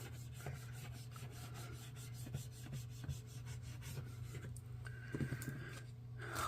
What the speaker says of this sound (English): And then we'll burnish that down also.